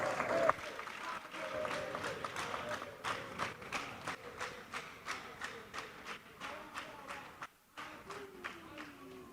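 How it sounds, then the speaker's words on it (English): Audience at a live public event claps in a rhythmic, evenly spaced beat that carries on steadily, fairly faint and distant, fading briefly near the end. "The applause is too low."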